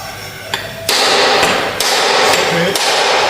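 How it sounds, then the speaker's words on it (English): Center punch struck with a hammer to mark a centre on metal in a technical college workshop: a few sharp metallic taps over loud steady workshop noise, with voices nearby. "Just to get the center where they will punch, just mark it"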